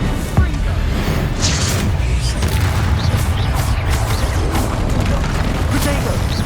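Dense, constant game-combat din from Hogwarts Legacy in which a Bombarda spell explosion lands as a sharp boom early on. Heavy layered blasts, rumble and clatter continue without a break, with voices mixed in throughout.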